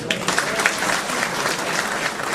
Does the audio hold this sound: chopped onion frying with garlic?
no